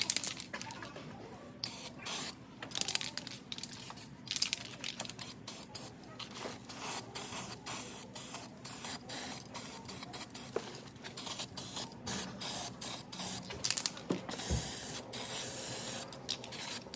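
Gloss white spray paint is applied over a rust repair on a Toyota JZX100 Cresta. The hissing spray comes in uneven bursts and sweeps, mixed with scratchy handling noises, and brief talk is heard in the background.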